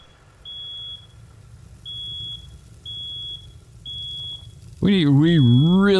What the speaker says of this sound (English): We really need to find this alarm.